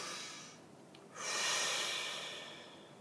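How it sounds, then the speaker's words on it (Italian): A deep breath is drawn in and let out slowly, close and soft, heard alone in a quiet room. "facciamo un bel respirone profondo"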